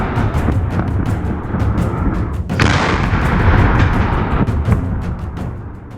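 Ukrainian artillery shells fire and explode in loud, dense rumbling booms that follow one another across a continuous roar, with one sharp blast standing out midway.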